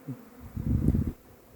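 Brief close buzz of honey bees flying into a hive from a rapeseed field, a low droning hum swelling for about half a second amid quiet surroundings.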